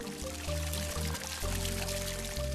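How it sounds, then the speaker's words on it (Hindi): Cartoon water pours into a garden in a steady stream, with a low gurgling tone that shifts pitch in stepped bursts, moderately loud and alone. "अब हम बगीचे में पानी डालेंगे"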